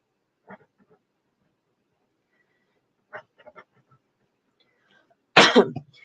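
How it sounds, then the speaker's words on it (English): A few short, raspy hacking coughs spaced apart in a quiet room, ending with one louder, harsher cough. "I have the coughs, you have the sneezes."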